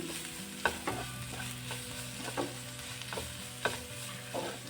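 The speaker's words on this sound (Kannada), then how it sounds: "ಮಸಾಲೆ ಎಲ್ಲ ಹಾಕ್ಕೊಂಡ್ಮೇಲೆ ಉರಿನ ಲೋ ಫ್ಲೇಮಲ್ಲಿ ಇಟ್ಕೊಂಡು ಚೆನ್ನಾಗಿ ಫ್ರೈ ಮಾಡ್ಕೊಳ್ತಾ ಇದ್ದೀನಿ" Masala with coriander and cumin powder fries on a low flame, a soft steady sizzle broken by several spoon scrapes and stirs at an irregular rhythm, close by with no talking.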